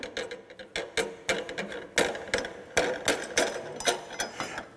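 Repeated metallic ratcheting clicks as a wrench loosens the draw bolt on a lathe or milling machine spindle, a series of close, sharp bursts in an uneven rhythm with no talking.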